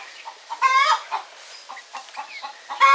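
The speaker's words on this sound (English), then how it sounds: "Listen to that chicken still going on because I disturbed her." A large hen, agitated after being disturbed, clucks in close, loud, uneven bursts of squawks and clucks, with no talking.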